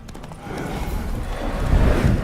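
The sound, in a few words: horse hooves and whinny in video game The Witcher 3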